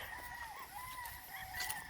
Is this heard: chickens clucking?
yes